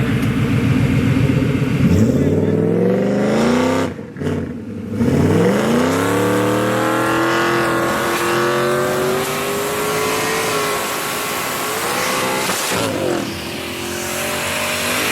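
Two Mustang 5.0s, a big-turbo car and a procharged one, launch in a street race. Loud engines climb through rising revs and shifts, with a brief cutout near the start, then sustained high-rpm roaring that fades slightly as the cars pull away.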